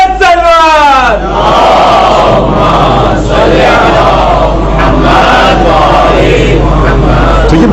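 A large mosque congregation at a Muharram majlis in Karachi loudly chants salawat together, a dense, sustained roar of many voices that rises after a brief lead-in call and holds steady throughout.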